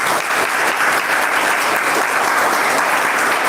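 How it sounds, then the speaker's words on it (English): Sustained applause from a workshop audience of children at the close of a mathematics session, dense and steady clapping throughout with no talk over it. "A big round of applause for him."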